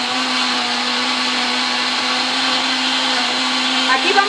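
A blender grinds ingredients for gordita filling with a loud, steady, continuous whir close up, holding an even pitch throughout with a slight change in the last moments.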